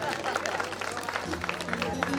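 Audience at a Durga jagran devotional night claps in a loose, fairly steady patter, mixed with crowd babble and a voice or music tone partway through.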